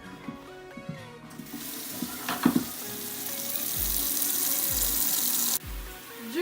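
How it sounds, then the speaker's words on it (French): Boiling water pours into a bucket with a rushing splash that builds and holds, then cuts off, after some clinks and knocks at the start. "je prends un seau, logique, et je mets de l'eau bouillante dedans"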